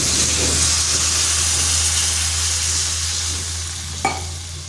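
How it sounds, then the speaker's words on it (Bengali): Water goes into a pan of egg and flat bean curry that is already cooking down, giving a steady loud sizzle and hiss that eases slightly, with a sharp clink near the end. "এরপর এখানে দিয়ে দিচ্ছি জল।"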